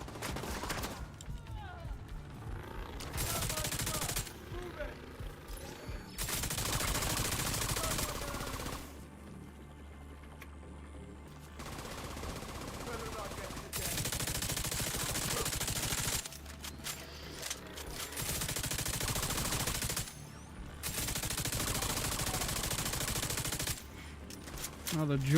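Light machine gun fire in a video game, coming in long sustained bursts that alternate with brief quieter gaps, loud and dense throughout.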